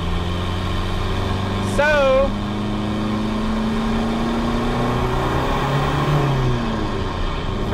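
Rebuilt 1.9L ALH TDI diesel engine fitted with big injectors, running with a steady close drone and clatter throughout, while a person speaks briefly early on.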